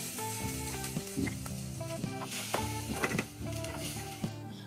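Onion dropped into hot oil already holding a piece of cinnamon and three or four whole red chillies crackles and sizzles steadily up close, with a few scrapes and clinks of the utensil and no voices.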